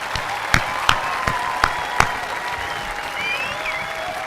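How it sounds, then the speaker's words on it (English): Graduation audience applauding the class of 2025: a few sharp, distinct claps ring out early over a broad wash of crowd clapping that carries on steadily afterward. "How about one more round of applause for the class of 2025?"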